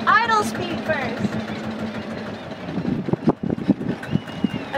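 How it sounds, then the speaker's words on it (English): A Sabb 10hp boat engine slowing down to idle, a steady low chugging knock under a person speaking close by. "Okay, engine is slowed right down."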